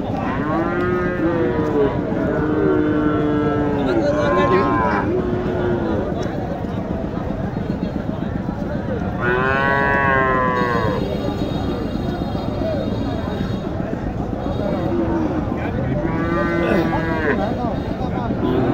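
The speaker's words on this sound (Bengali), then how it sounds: "এখানে একটি বকনা গরু দেখছেন," Sahiwal heifer at a cattle market lowing in three long, loud moos spaced several seconds apart, over constant crowd chatter and market noise with people talking nearby.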